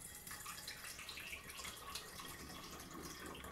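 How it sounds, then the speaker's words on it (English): Pressed pomegranate juice pours steadily into a glass bottle already holding some sparkling water, a continuous close liquid trickle and splash with no talking. "And what we're going to do is we're going to pour it in the bottle."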